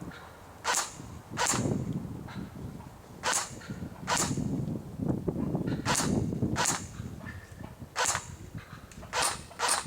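A CYMA G36C airsoft gun shoots BBs on semi-auto indoors, giving about eight crisp snapping shots at an irregular pace over a dull background rumble, with no voices.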